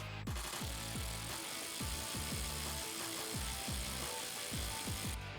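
Ratchet on an extension loosening a turbo intake hose clamp deep in the engine bay of a 2018-2020 F150 2.7L EcoBoost, a fast run of repeated metallic clicking pawl strokes, close and steady throughout.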